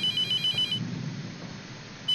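A telephone rings inside the horror game The Mortuary Assistant, set in a mortuary: an electronic tone repeats in quick pulses, cuts off, then starts again at the end, with no talk over it.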